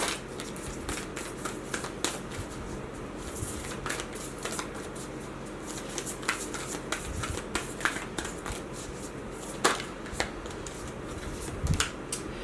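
Tarot cards being shuffled close by, a steady papery riffle and slap with sharp flicks and snaps as cards fly loose, no talk over it.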